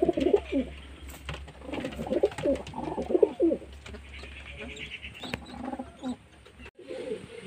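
Several pigeons coo in soft, repeated throaty bursts close by, part of a flock of eight birds including young ones, with a steady low hum underneath and a brief dropout near the end.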